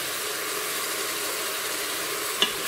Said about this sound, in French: Et puis je viens introduire la viande. Je fais aussi revenir un petit peu.